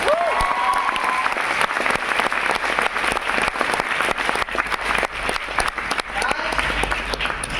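Audience applause at a five-star program in Siliguri, dense and steady clapping from a crowd filling the room for the whole stretch, fairly loud and close, with scattered cheers mixed in.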